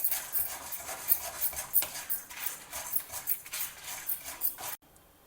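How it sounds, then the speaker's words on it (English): Chana dal and dry red chillies being dry roasted in a pan, with a light scraping and stirring clatter and a faint rattle of the dal and chillies moving, irregular and steady before cutting off abruptly near the end. "We will dry roast all of them together."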